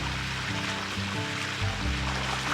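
Energetic splashing of water as a child thrashes about in a pool on a summer day, continuous sloshing and slapping bursts, close and fairly loud.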